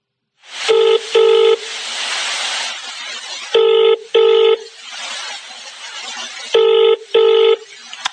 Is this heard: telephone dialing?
yes